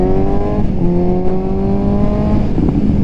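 A 2018 Suzuki GSX-S750 inline-four motorcycle engine running steadily, a loud close drone with rising and falling tonal whine as revs shift, no voices.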